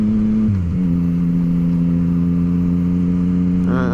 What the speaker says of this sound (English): the stock exhaust sounds like my wife's CBR 250